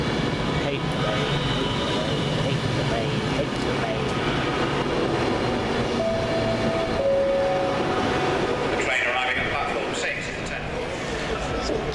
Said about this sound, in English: Virgin Trains double super voyager service from London Euston to Holyhead via Chester.